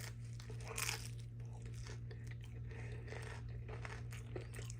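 Close crunching bites into a crisp fried bean sprout fritter, lumpiang togue, with repeated brittle crackles and chewing over a low steady hum.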